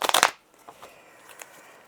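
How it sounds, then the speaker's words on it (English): Tarot cards shuffled by hand, a quick burst of crisp riffling flutters followed by a few faint soft card taps and slides, close and quiet. "I did extensive shuffling of the cards"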